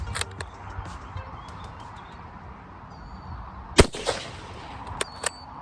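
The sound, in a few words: gunshot firing Czech 8mm surplus ammo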